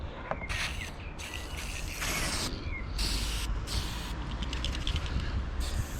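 WD-40 is sprayed in several short hissing bursts into a part on a Rover 75 car, with brief pauses and small mechanical clicks between sprays, close up and fairly quiet.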